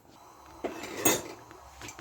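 Milk and sugar mixture stirred in a bowl for bread and butter pudding, with faint clinks of a utensil against the bowl, a couple of brief louder scrapes and taps at a modest level.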